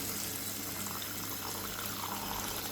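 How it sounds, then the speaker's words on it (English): Water runs steadily into a saucepan of peas, a continuous close splashing pour filling the pan without a break and with no talk over it. "They just need to be covered with some water."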